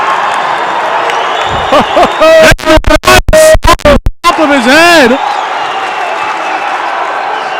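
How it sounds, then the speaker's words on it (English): A college basketball crowd in New London erupts into loud cheering and whoops, rising in sharp bursts mid-clip over arena noise, with a commentator talking through it. "the crowd erupts here in New London tonight"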